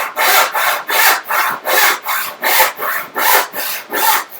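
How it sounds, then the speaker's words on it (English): A 10 PPI panel saw, about 20 inches long, cuts a half-inch-thick board with about nine even back-and-forth strokes, each a loud, close rasping rush in a steady rhythm. "This is a 10 PPI panel saw."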